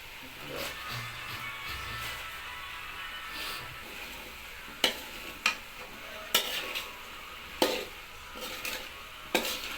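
Bitter gourd, potato and eggplant with spices sizzle and fry in a pan while a spatula stirs. Sharp scraping clicks grow more frequent toward the end over a steady hiss, close by.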